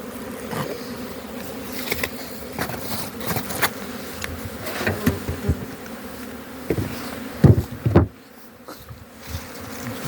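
Honeybees buzz around a hive at an apiary on a mild spring day, a steady close swarm hum with individual bees droning loudly past now and then.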